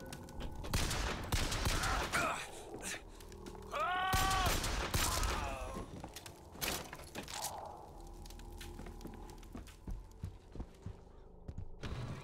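Starting pistol gunfire in Bioshock Infinite, a scattered series of sharp cracking shots amid game effects and a brief rising tonal cue, loud and close, with no speech.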